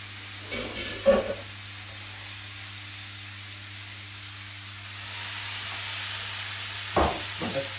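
Soy sauce hitting a hot Asian stir-fry brings a rise in broad sizzling hiss that carries on steadily, with a few clanks of utensils on the pan before and after; no talking.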